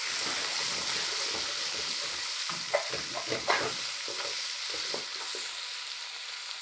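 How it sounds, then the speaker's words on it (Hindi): A tablespoon of garlic-ginger paste fries over medium-low heat for a beef kofta curry, with a soft, steady sizzle broken by close scraping and clattering strokes of stirring in the pan. "और अब इसके साथ में 1 टेबल स्पून लहसुन अदरक का पेस्ट शामिल कर दूंगा।"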